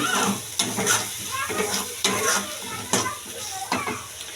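Prawns and bhola fish are stirred with salt and turmeric powder in a frying pan. Steady sizzling runs under repeated scraping strokes of the spatula, roughly one every second.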